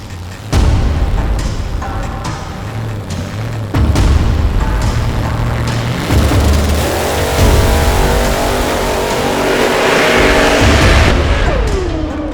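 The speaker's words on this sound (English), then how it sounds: "And this car is by far the loudest on the track." Dr. Rodknocker, a budget drag race car, roars loudly and continuously at the track, its engine revving up through several gear changes with a deep, booming exhaust and no voices over it.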